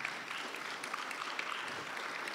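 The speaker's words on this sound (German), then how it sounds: "Applaus ist erlaubt." Audience applause at a German panel discussion on climate and food security, a steady dense patter of clapping throughout, moderately distant and fairly soft.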